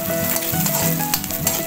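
Pork sisig fries in a pan, a bright continuous sizzle with crackling spatters and the scrape of stirring, close and loud and heard on its own.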